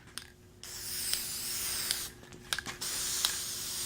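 A spray paint can hisses in a long steady spray, with a couple of short breaks and faint clicks, close by.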